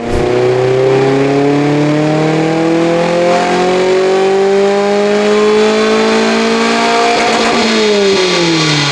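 Loud, close engine of an Opel-engined Lotus held at high revs during engine tuning, its pitch rising and falling slowly in sustained drones, with no speech.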